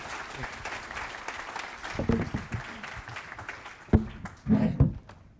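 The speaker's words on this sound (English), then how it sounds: "a round of applause, please, for the panelists" Conference audience applauding panelists, a fairly faint, thinning clap that tapers off with a few louder thumps and handling knocks near the end.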